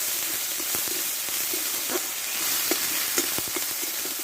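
Ground turmeric with a paste of ginger, green chilli and cumin frying in hot oil, giving a steady close sizzle with scattered small pops and crackles throughout, no voices.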